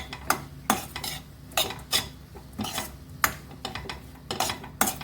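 Two chopped capsicums are stir-fried with softened onion in a pan for Mumbai street-style pav bhaji: a spatula scrapes and knocks against the metal in irregular strokes over a faint sizzle, close and fairly quiet, with no voices.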